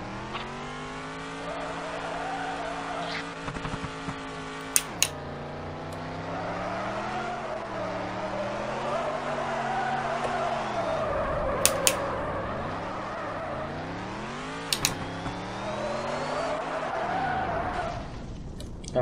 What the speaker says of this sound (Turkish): Güzel drift atıyor değil mi?